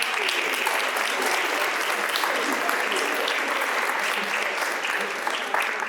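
Steady, sustained applause fills a public meeting room at Chilhowee Park, a dense wash of many hands clapping at even loudness for several seconds with no pause.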